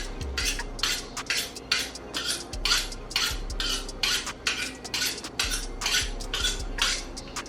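A knife scrapes and taps against a cutting board while filleting a whole rainbow trout, repeated short strokes in an uneven rhythm, close and moderately loud with no talking.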